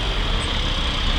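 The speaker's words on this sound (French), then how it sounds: "Hein, encore un tracteur." A tractor engine drones steadily nearby as it passes a house under construction in rural Thailand, a continuous low rumble with no break.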